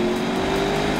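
A Chevy-powered HSV car engine revving hard at high load, a loud, raw, sustained drone with a steady pitch throughout, no voices.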